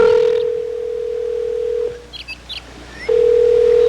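A telephone ring tone sounds as a loud, steady electronic tone that runs for about two seconds, stops, and then starts again, with faint chirps in the gap between the two tones.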